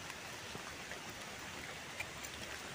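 Rain falls steadily in a forest, a soft even hiss of drops on leaves and ground with occasional brighter patters, no voices.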